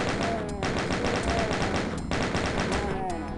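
Rapid, continuous gunfire mows down imps in Doom 2 on MAP27 Dead Serious, a loud, dense, unbroken stream of shots with a few sharper accents.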